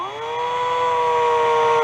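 A cheap cordless drill running on old batteries, laid flat on a table and used as a makeshift lathe, whirs with a steady high-pitched motor whine that rises slightly and holds constant throughout, loud and close with no talking.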